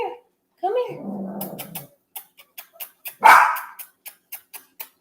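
Upset dogs bark indoors: a growl and whimpering lead into a loud bark, then a series of short, sharp yips at a steady rhythm, close to the microphone.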